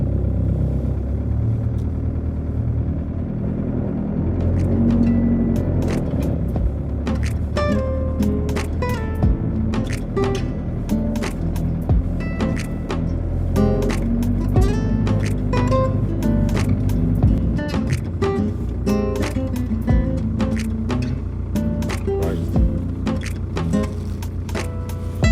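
Cars drive slowly and manoeuvre into parking spaces at a busy outdoor car boot sale, engines humming loudly and continuously with clattering, scraping and knocking sounds scattered throughout.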